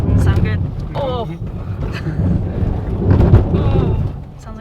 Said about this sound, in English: Sounds like it's just scratching at the bottom of our car.